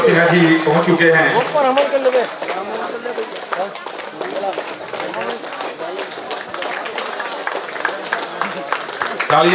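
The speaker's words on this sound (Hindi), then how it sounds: "तालियां बजती रहनी चाहिए।" At a kabaddi tournament in Rajpur, Dhamtari, a crowd keeps up steady, dense clapping under a loud announcer's voice on a public address system.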